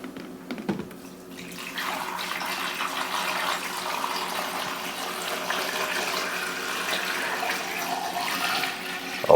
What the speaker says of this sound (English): we're gonna get some water in